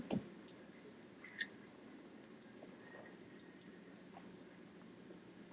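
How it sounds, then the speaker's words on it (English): A quiet night scene with crickets chirping in a thin, regular high trill, steady and faint, with occasional soft knocks. "Those most monotonous fucking crickets I ever heard in my life."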